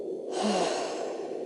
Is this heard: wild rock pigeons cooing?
no